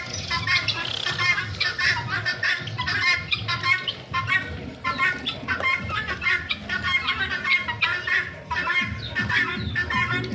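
A flock of Black Java chickens clucks and squawks close by in a busy, overlapping chorus, with brief background voices mixed in.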